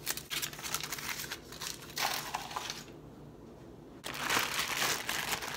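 Bare hands squish and knead a wet ground-meat meatball mixture with a little chopped onion, giving a steady close crinkling, squelching texture with short pauses between pushes.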